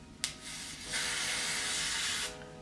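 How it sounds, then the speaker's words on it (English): A product sprays onto a braided wig in a short hiss, then one steady, close spray lasting over a second, with no talking. "So what I'm going to do is spray it and sit it down one more time"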